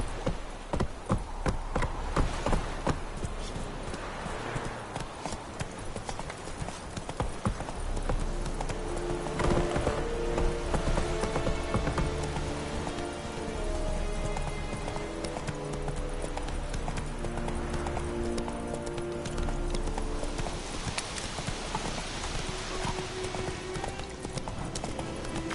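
Roach the horse galloping in The Witcher 3: rapid, rhythmic hoofbeats at close range, running steadily throughout under game music and ambience, with a brief snort partway through.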